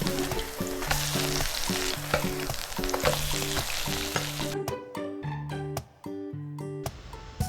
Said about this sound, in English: Fry back and forth for 5 minutes to completely delicious 김치전.